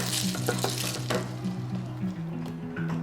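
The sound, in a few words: stirring food frying in a pan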